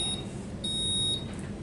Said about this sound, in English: you would hold down the button to reset to stop the alarm because it's annoying